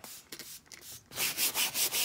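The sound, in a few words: brushing cleaner into fabric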